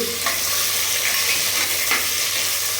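Onion and chili fry in hot oil with cinnamon, cloves and cardamom for tomato rice: a loud, steady, close sizzle with faint stirring scrapes throughout.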